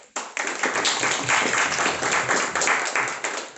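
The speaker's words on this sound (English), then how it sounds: "A big round of applause for making it on a Sunday morning" A Sunday-morning speakers' forum audience breaks into dense, sustained applause, a steady wash of many hands clapping together that fills the room at an even level.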